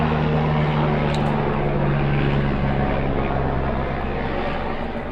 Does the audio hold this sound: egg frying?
no